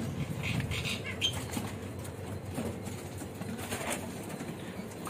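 A small caged bondol (munia) bathing flutters and flaps its wings in quick bursts, close by, with splashy rustling and an occasional soft coo.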